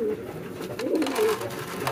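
Pet pigeons cooing nearby, a soft throaty coo rising and falling in the middle of a low rustling background, with no clear talk.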